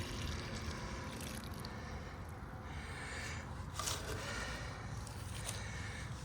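Rainwater in Idaho poured out or dripping, a faint continuous watery trickle and splash with a few small scrapes, heard quietly on its own with no talking.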